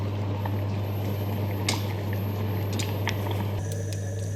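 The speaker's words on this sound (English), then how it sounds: "our khichuri is bubbling away in the background" Khichuri, a Bangladeshi rice and lentil porridge, bubbles in a pot with soft scattered pops and gurgles over a constant low hum, quiet and close, no voices.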